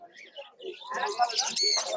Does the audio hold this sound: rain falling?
no